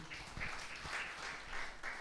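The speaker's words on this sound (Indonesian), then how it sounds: "Yuk kita kasih tepuk tangan dulu yuk yang buat Tuhan yuk." A church congregation applauds during a Sunday worship service, a soft, distant patter of clapping that swells slightly in a few places and stays faint throughout.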